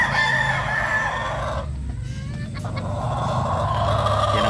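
A rooster crows loudly and close by among farm fowl, its drawn-out call rising over constant background rumble from passing car and truck traffic.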